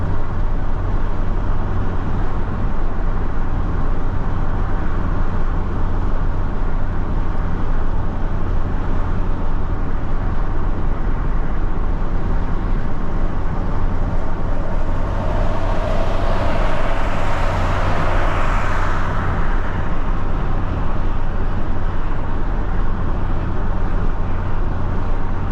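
Inside a 1989 Ford Probe Turbo GT under way, the engine drones loud and constant, blended with heavy road noise, with a slight swell of the engine partway through.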